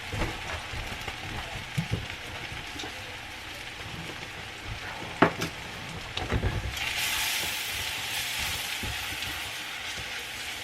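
Sugar caramelizing in a hot pan with cloves gives a steady, close sizzle and crackle with a few sharp pops, growing louder and brighter toward the end.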